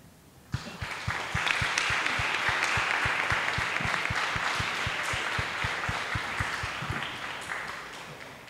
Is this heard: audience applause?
yes